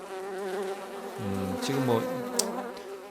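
Flies drone with a steady buzzing whine as a sound effect in an Unreal game demo, while a voice briefly speaks over the buzz.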